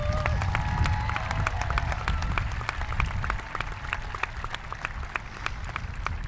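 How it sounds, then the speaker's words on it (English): Dense crowd applause fills a stadium graduation ceremony, steady and continuous with sharp claps throughout, a faint voice or tone briefly audible early on. "Let's give them a big round of applause."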